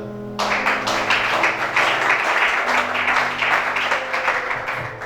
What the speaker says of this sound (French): Acclamez Shada.